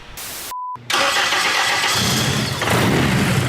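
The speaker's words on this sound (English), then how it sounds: "Spoon, start the car" A Toyota FRS with a swapped-in Honda engine cranks briefly and fires up, settling into a loud, steady idle heard close by.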